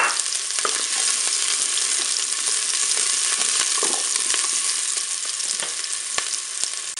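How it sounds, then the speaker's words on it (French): Onions frying in hot oil in a Cookeo electric multicooker, a dense, steady sizzle with crackling pops scattered throughout, loud and close with no voices. "Je vais pouvoir mettre mes oignons."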